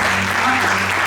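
A church congregation applauding and cheering, a thick, steady wash of clapping with voices mixed in, loud and close throughout the short burst.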